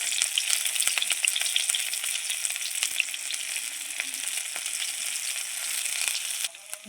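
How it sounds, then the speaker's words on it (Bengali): Grated ginger, garlic and chopped green chili fry in hot oil for a potato curry, a continuous bright crackling sizzle with a few faint stirring clicks, close and steady. "দিয়ে দিলাম গ্রেট করে রাখা আদা রসুনটা, লঙ্কা কুচি দিলাম"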